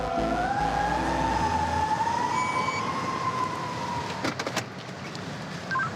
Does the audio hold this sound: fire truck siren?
yes